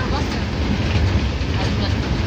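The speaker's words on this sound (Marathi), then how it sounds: "आणि आमची ट्रेन आली आता डायरेक्ट गोवाची" A train bound for Goa pulls into a station with a loud, steady rumble and faint clatter of wheels, while voices talk nearby.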